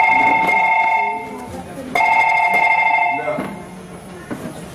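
A telephone rings twice, bright electronic trills about two seconds apart, fairly loud and close, with faint background murmur between the rings.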